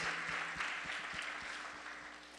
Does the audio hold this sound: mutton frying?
no